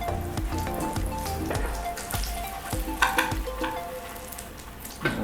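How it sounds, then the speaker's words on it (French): Potato croquettes fry in hot oil, a steady close sizzle with crackling bursts and occasional clinks of a utensil turning them, no talk. "On va frire un peu les côtés aussi."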